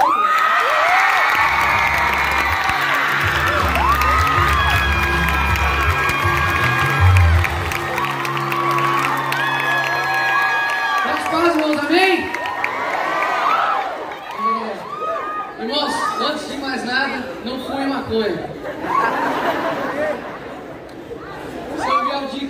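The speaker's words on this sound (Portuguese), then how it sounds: "Recebam com muito carinho, com muita alegria, com muitos aplausos, o vereador Nicolas Pinto." A crowd at a political rally cheers, shouts and applauds as a city councillor enters, loud dense crowd noise with a booming voice over a PA early on, then scattered cheers and chatter fading slightly.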